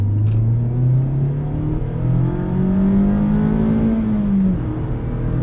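A 2019 Mazda MX-5 Miata RF Club engine revs while driving, a loud close in-cabin drone that climbs steadily through the gears, dropping once at a shift and then rising again.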